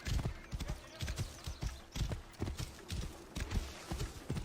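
A horse's hooves clip-clop in a video game, a quick regular run of hoof clops close up and fairly loud, continuing without a break.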